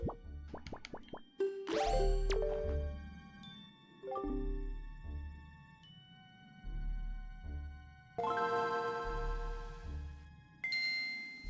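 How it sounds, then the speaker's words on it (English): Tingle Tuner ringing in The Wind Waker video game: bright synthetic chimes and plopping tones in bursts over a looping low game soundtrack, fairly loud with no talk. "Phone call, phone call."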